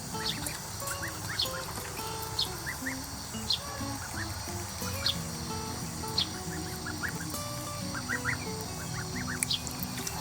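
Young one-month-old tufted Toulouse geese give soft, scattered peeping and honking calls, repeated irregularly over a steady background hum.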